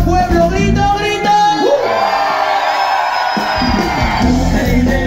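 A village crowd shouts and chants loudly at an outdoor orchestra festival concert in Villa del Campo, with dense massed voices and a rising yell in the middle.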